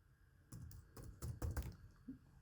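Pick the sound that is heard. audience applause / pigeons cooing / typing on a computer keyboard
typing on a computer keyboard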